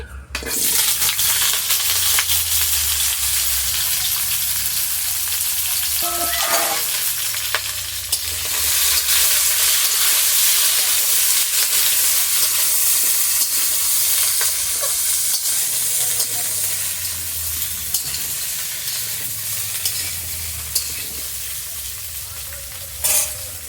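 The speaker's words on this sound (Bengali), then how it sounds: "এবার ওই তেলের মধ্যে আমি সমস্ত ভাজা সবজিগুলো দিয়ে দিচ্ছি।" Fried vegetables tipped into hot oil for a prawn shukto, with loud continuous sizzling and periodic scraping strokes of a stirring spoon, close and steady throughout with no talk.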